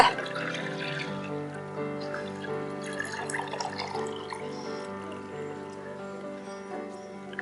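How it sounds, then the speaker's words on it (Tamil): Milk is poured into a transparent box, a soft, steady trickling pour that lasts several seconds over a faint background hum. "ஒரு டிரான்ஸ்பரண்ட் பாக்ஸில் வந்து நான் அந்த பாலை ஊற்றி வச்சு தெளிய வைக்க போகிறோம்"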